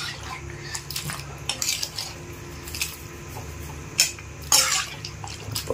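Water clatters and trickles into a metal pot while chicken gravy is prepared, with brief clanks of the pot and utensils and a steady splashing pour in a home kitchen, no voices.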